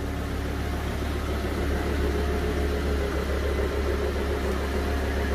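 Lamborghini LP550-2 with a TopSpeed exhaust idling after a warm-up, a steady, fairly quiet low rumble with an even throb and no revving, continuous and close.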